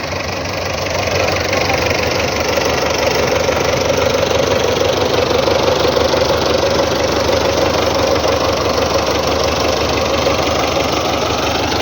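A Belarus 510 diesel tractor, a 57-horsepower Russian model hitched to an 18-disc harrow for field preparation, idles steadily with a loud, continuous low engine rumble and vibration throughout, with no voices.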